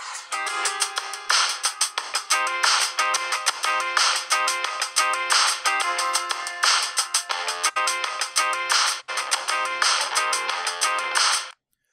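Samsung Galaxy Grand 2 smartphone playing its ringtone through the loudspeaker, a bright, repeating melodic electronic tune in steady rhythmic phrases, close and clear, stopping abruptly at the end.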